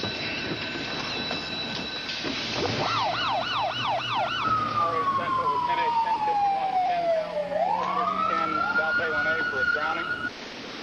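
An ambulance siren wails and yelps, swooping up and down in pitch, loud and close, over a constant rumbling background of traffic noise.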